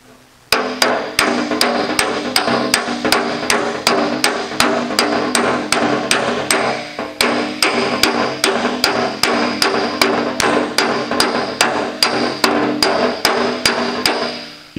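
A hammer strikes aluminum sheet backed by a dolly in a fast, steady rhythm of sharp ringing blows, close and loud, continuing for the whole stretch with no voices.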